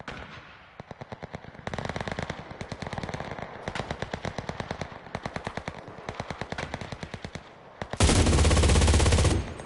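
Gunfire from a gun in the video game CRSED comes in rapid automatic bursts separated by short gaps, ending in one loud, dense sustained volley.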